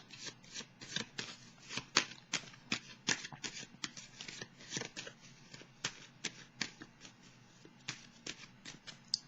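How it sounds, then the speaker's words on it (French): Tarot cards shuffled by hand, a rapid train of crisp papery riffles and slaps with uneven rhythm, close and clear with no voice over them. "Je vais piger une autre carte ici"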